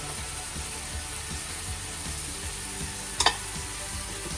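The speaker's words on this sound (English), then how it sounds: "Next, you can add your carrots and the celery" Carrots and celery added to a pan of cooking soy granules for vegetarian lasagne give a steady, moderate sizzle throughout, with a brief louder clatter near the end and no talking.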